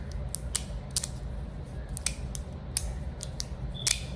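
A resin-printed fidget toy gives sharp, sparse clicks at an irregular pace over a quiet, steady background hum, close and fairly soft.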